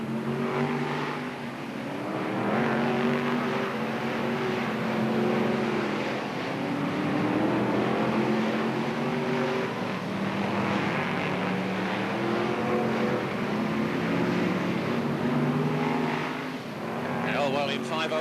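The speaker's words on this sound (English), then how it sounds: "it's still Hodgson in car number 172" Brisca F1 stock cars race at Northampton, a steady roar of engines under continuous commentary, the field droning together without a pause.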